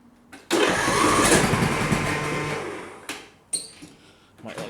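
An MTD lawnmower engine is cranked with a portable jump starter, a loud burst of cranking and sputtering that fades after a few seconds, followed by short knocks and clatter.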